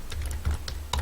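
A business name is being entered on a computer keyboard, giving a short burst of close key taps. A low steady hum runs underneath the clicks.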